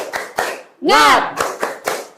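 A class claps in a quick rhythmic pattern, broken by a loud shouted cheer of "Semangat" from many voices before the clapping resumes.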